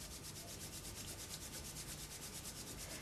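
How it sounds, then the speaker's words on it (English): Palms rubbing together hard and fast to build warmth, a steady rhythmic swishing friction that pulses evenly and continuously, close and moderately loud with no talking. "The first thing is that you rub your hand"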